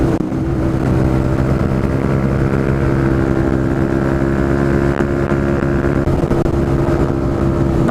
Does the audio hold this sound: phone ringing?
no